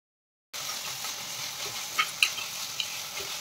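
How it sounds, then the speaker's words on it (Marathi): Cauliflower, green chilli and chopped tomato sauté in a pan, starting abruptly as a steady hissing sizzle with a few brief stirring clicks, moderately quiet and free of speech. "आणि आता आपण सर्व ह्या भाज्या छान परतून घेऊयात"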